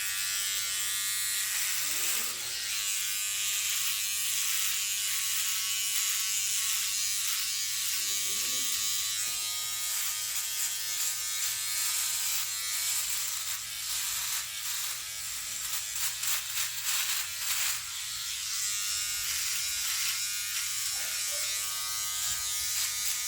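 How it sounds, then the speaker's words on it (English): A Philips OneBlade electric shaver runs across a face, a close, continuous high buzz that rasps and flutters as it moves over stubble, steady throughout with no voice. "Okay, so what I'm going to do here is shave half my face."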